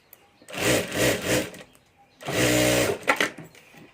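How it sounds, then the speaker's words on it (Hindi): A sewing machine stitches a zipper onto a multi-pocket ladies' handbag in two bursts. The first run is short and choppy, the second longer and steady, and both are close and clear with quiet pauses around them. "यहाँ ऊपर हमें सिलाई करके ये दूसरी जिप भी जोड़ देनी है"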